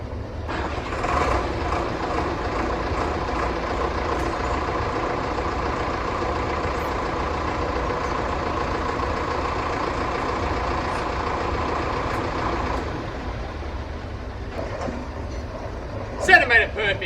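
A tractor engine idles steadily while reversing in a farmyard, positioning a forklift frame near a counterweight; a continuous loud diesel drone runs for about thirteen seconds, then eases off, followed by a few clanks near the end.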